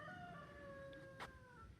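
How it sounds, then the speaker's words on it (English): A rooster crows faintly in the distance at sunrise on a snowy morning over a steady background hum, one drawn-out call with no speech. "Roosters are crowing, the sun's coming up."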